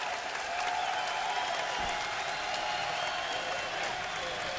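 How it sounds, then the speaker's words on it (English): A wrestling crowd at a TNA event at the Bren Event Center, UC Irvine, Southern California, roars and applauds in a sustained, loud wash of cheering that holds steady throughout. "You hear the reaction from the crowd here at the Brent Event Center, UC Irvine, Southern California"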